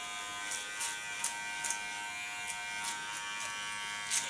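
Electric hair clippers buzz steadily and close up while cutting a neckline contour, with a thin constant hum broken by several brief crisp bursts as the blade meets hair.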